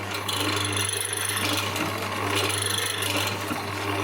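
A Charnwood W316 hollow chisel morticer runs continuously as it tidies the side walls of a wooden mortise, a steady motor hum under rasping, grinding wood cutting that swells and eases.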